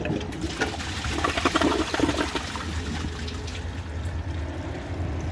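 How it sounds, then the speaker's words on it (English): A 2007 Toto Lloyd toilet flushing, a steady rushing swirl of water running throughout at close range with no talking. "So let's give it a flush and then see how it does on tests."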